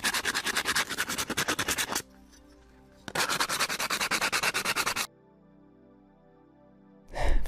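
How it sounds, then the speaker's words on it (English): A bracket's edges being sanded in two bursts of steady, loud back-and-forth rasping, each lasting a few seconds, with short pauses between them and a brief thump at the end. "Now it was time to sand the edges."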